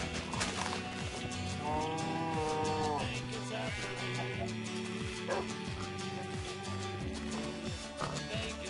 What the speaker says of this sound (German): das sind mehr Hunde